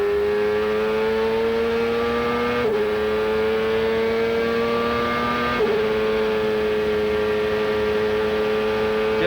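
Michael Andretti's Indy race car at the 1999 Texaco/Havoline 200 holds a loud, steady high-pitched engine whine, with two brief dips where the driver feathers the throttle before the tone climbs again.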